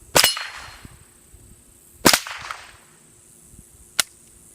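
A Savage Arms Model 64 .22lr semi-automatic rifle fires three sharp, close cracks about two seconds apart, the last one quieter and shorter, with quiet between shots.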